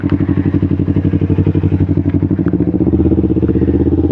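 A motorcycle engine runs steadily at close range with a dense, throbbing low drone in stop-and-go traffic, a faint clatter over it, no voices.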